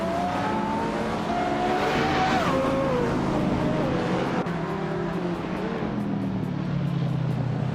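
Race cars, including a 2016 BMW i8, howl through the Cleveland Grand Prix in a racing video game, engines continuous and loud with pitch sweeping as gears shift, a voice talking faintly beneath.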